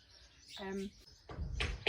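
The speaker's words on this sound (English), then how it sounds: "So many birds around, it's so cool." Small birds chirp in a garden in May, with a short tonal call and then brighter twittering, faint and a little distant, alone with no talking.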